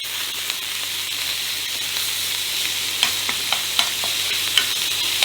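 Ground beef sizzles steadily in a hot pan as it is stirred, a constant bright frying hiss punctuated by several sharp scraping clicks of the utensil toward the end.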